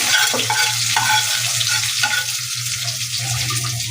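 Bitter gourd and potato go into frying onions in a pan and sizzle steadily, with brief stirring scrapes throughout and no voices.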